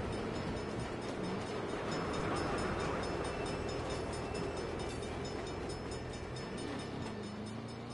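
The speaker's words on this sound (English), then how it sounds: "Bad time for a train." A video game train rumbles past steadily for several seconds, with a continuous low roar and faint rail noise throughout, loud and close.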